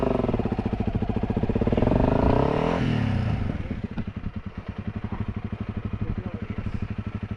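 Dirt bike engine, a CRF 300L or XPulse ridden in deep mud in Nepal's Ruby Valley, revs hard and loud, then settles into a choppy, pulsing idle with clattering as the bike is pulled free.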